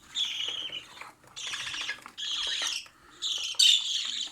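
Budgerigars squawk in harsh, scratchy bursts, several chattering calls in a row, close by and with no voices.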